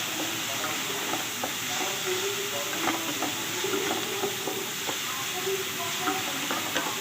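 Spice masala with a little turmeric fries in a pan for chicken keema patties, giving a steady, moderate sizzle and crackle with light spatula scrapes throughout.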